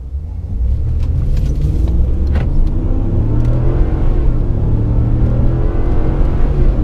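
A 2019 Ram 1500 Limited and a 2019 Ford F-150 Platinum diesel pickup accelerate hard side by side in a drag race, loud continuous engine rumble with rising pitch as the revs climb, close and steady throughout.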